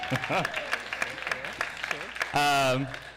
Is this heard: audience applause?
yes